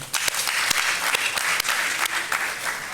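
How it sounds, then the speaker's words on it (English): Conference audience in Accra, Ghana, breaks into warm, sustained applause for a speaker, a thick field of many hands clapping at a steady level without talk. "Can we clap for him?"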